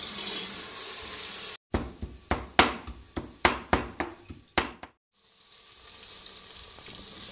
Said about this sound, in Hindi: दो मीडियम साइज़ की प्याज मैंने इसमें डाली है और हमने इनको लाइट सा ब्राउन करना है